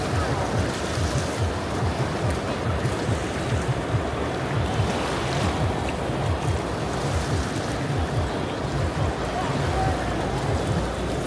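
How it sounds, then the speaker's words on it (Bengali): Small waves of the Ganga river lap steadily against the bank near Rishikesh, a continuous close wash of water mixed with wind rumble, with no clear talk. "এই হচ্ছে গঙ্গার ঢেউ একটু একটু করে আসছে"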